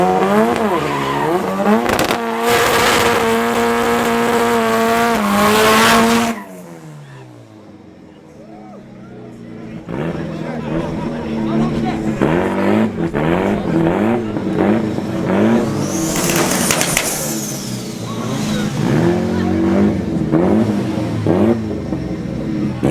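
A front-wheel-drive race car at a FWD Cash Days drag race revs hard and squeals its tires while struggling for traction, then roars on through rising engine pitch; loud and near, with a commentator talking over it.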